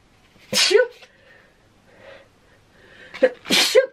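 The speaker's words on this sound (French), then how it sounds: "Excusez-moi, je vais éternuer." A sharp sneeze bursts out close by, followed after a quiet breath by two more quick sneezes in succession.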